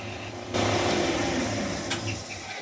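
A metal lathe turns down a threaded area on a balancing tool part, giving a steady close mechanical whir with a brighter cutting hiss that starts abruptly and continues to the end.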